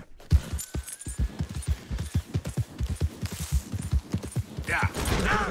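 Horse hooves pound in a steady galloping rhythm in Red Dead Redemption 2, close and fairly loud, with a brief rustling burst near the end as the horse jumps.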